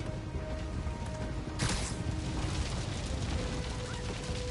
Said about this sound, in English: Last explosion.